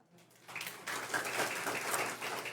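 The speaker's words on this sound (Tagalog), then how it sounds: "Sinong sang-ayon pumalakpak ng malakas?" A church congregation breaks into applause that starts faint, then swells sharply into broad, steady clapping that holds to the end without voices.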